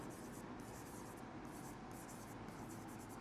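Marker strokes on a board come in short rhythmic bursts of scratchy rubbing, faint and close, repeating several times as a definition is written.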